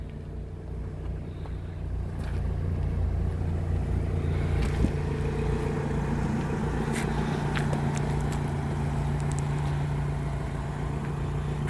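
A cheap convertible car's engine idling steadily nearby, with a low, even rumble and a few faint clicks and knocks on top.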